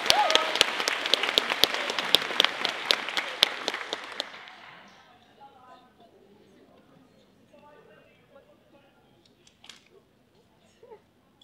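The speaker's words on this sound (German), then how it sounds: "Kräftiger Applaus." Audience applause at a cosplay contest at a German convention, loud sharp clapping for about four seconds that quickly fades, followed by quiet room murmur and faint talking.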